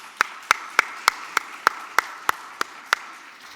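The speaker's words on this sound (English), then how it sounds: "Give them a big round of applause," Applause greets panelists taking the stage for a fireside chat on digital assets. Crisp, close claps land at a steady, regular beat, about three per second, over a softer bed of wider crowd clapping.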